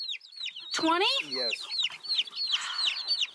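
Chickens cluck repeatedly at a backyard coop in Bocas, Panama, with young birds hatched on site; the loud, choppy calls fill the whole stretch while a person's voice briefly overlaps.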